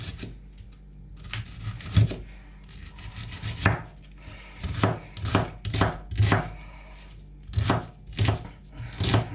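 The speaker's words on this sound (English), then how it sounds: "I'm just gonna cut the rest of these onions." A knife chops onions on a cutting board in rapid bursts of crisp thuds, with short pauses between runs, close and clear with no talk.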